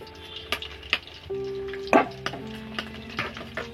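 Potato pieces frying in a pan for a village-style chicken curry, giving a soft steady sizzle with sharp clinks and scrapes of a utensil against the pan and a brief clatter near the middle.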